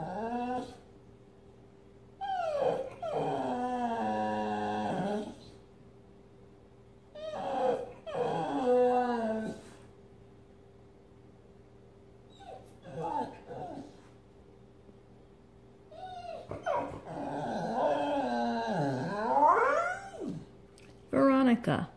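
A pit bull whimpers and yips in several bursts of high, wavering whines separated by short pauses, close and fairly loud, with the longest run of cries near the end.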